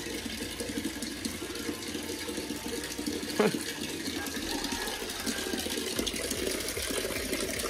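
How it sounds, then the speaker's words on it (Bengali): Water runs and pours steadily as a container fills, a continuous wash of splashing with a brief louder splash midway, heard up close with no voices. "ওই দেখ কোথা থেকে জল পড়ছে"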